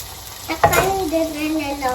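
Onion, garlic, ginger and tomato sizzle and crackle in hot oil in a home kitchen pan, loud and close with stirring, while a voice is faintly heard in the background.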